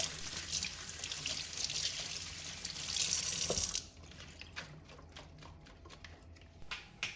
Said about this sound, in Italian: Lavo la guarnizione